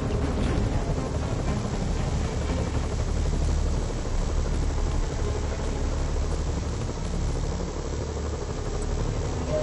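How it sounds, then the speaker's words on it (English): Helicopters in a Spider-Man video game: a dense, steady rotor and engine roar fills the whole stretch, loud and unbroken, with no voices over it. "Bet I can use those helicopters to swing."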